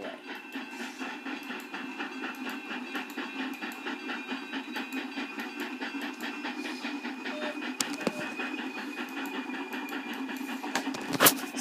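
Trains running on rails in the Trainz simulator game, a steady rhythmic clatter of wheels over track joints with a continuous rumbling hum, a couple of sharp bangs near the end.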